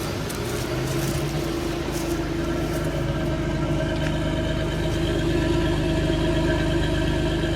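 A car's pushrod engine idles steadily and close, a low, even rumble with a faint tick, holding constant without revving.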